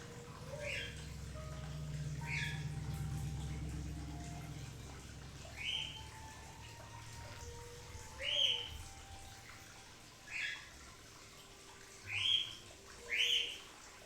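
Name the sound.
two birds calling, one cooing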